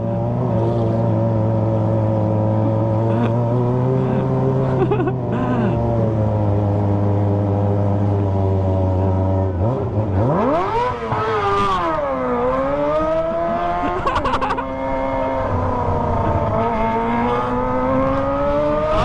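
A Kawasaki ZX25R motorcycle with a Toce exhaust revs hard, a loud high-pitched engine note holding steady, then a sharp climb and swooping rev changes in the second half, near and dominant, with faint voices in the background.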